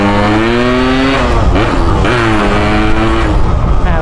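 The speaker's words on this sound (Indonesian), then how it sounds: "Kita geber dulu ya." A loud, close motorcycle engine revs up and down in several rising and falling sweeps, a throaty roar filling the whole clip.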